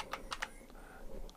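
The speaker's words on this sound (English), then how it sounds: "I got to hit my keyboards correctly." Keys on a computer keyboard are pressed in a quick burst of three clicks, followed by a few lighter taps, close and fairly quiet, with no voices.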